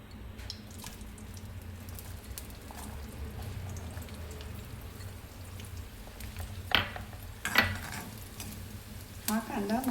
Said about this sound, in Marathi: तेल तापलेलं आहे. मी यात बारीक चिरलेला साधारण मोठा कांदा मी यात टाकत आहे.